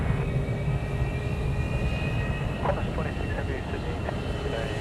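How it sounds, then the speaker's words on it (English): A Jetstar Airbus A320 airliner passes at Sydney Airport, a steady distant engine roar with a faint whine, heard under a commentator's talking. "we've got a Jetstar 320 coming across our screens now"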